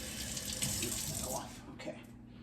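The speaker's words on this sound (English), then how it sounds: "I want to rinse my hands." Running water from a kitchen faucet splashes steadily over hands being rinsed in a sink, a continuous close hiss that thins out toward the end.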